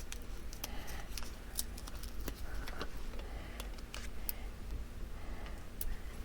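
Small scissors snip through mini dimensional adhesive pieces, cutting them in half in a quiet room, with scattered faint clicks and crisp cuts at irregular intervals.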